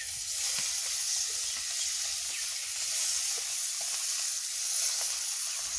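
Fish frying in a pan produces a steady, even sizzle and hiss at moderate distance that carries on without pause, with faint kitchen clinks and no talking.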